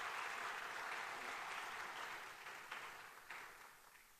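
A church congregation at a revival meeting claps to welcome a pastor, producing a broad, fairly faint wash of applause that slowly fades over a few seconds.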